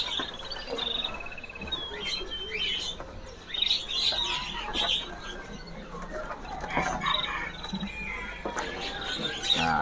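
Small songbird, a prinia, chirping in quick, high bursts over a dense natural background of insects and other calls.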